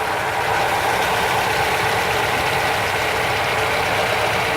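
Rover P6 engine idling during idle screw adjustment, a loud, steady close-up rumble with an even, unchanging drone throughout.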